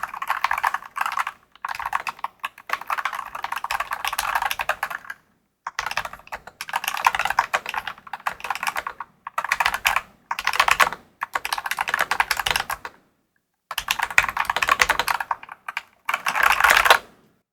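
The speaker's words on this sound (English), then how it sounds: "I specifically wanted something that had that creamy, I feel so nerdy saying that, creamy sound." Typing on a RoyalAXE R100 mechanical keyboard with creamy switches: close, dense bursts of soft clacking keystrokes in several runs separated by short pauses, with no voice over them.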